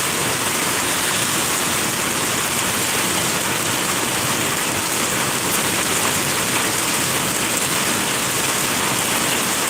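Steady, dense rain hisses loudly and continuously throughout, heard during a motorcycle ride in Banjarmasin, with no voices over it.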